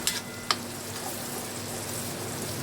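Ground spice paste frying in hot oil in a pan before fish is added, giving a soft continuous sizzle with a couple of sharp clicks at the start, steady and close with no talking.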